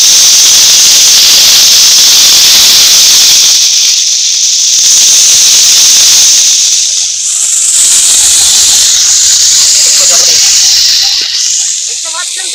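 Whole lote fish frying in hot oil in a wok for a Bengali vegetable-and-fish curry, a loud close hissing sizzle that swells and dips throughout.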